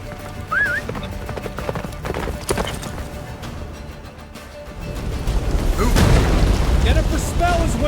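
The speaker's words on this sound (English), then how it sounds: "Faster, Roach. Don't stop" A horse gallops through The Witcher 3 with steady clip-clop hoofbeats, heard alongside game music, booming effects and a brief whinny, and a voice speaks over it.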